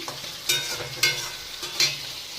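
Spice masala frying in oil in a pan for a prawn and ash gourd ghonto, with a steady sizzle and three evenly spaced stirring scrapes, close and fairly loud, no voices.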